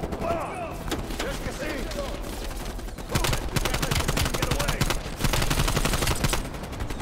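Rapid automatic gunfire from a weapon in Black Ops Cold War, loud and continuous with dense bursts that intensify in the second half, over game background noise; a voice talks underneath.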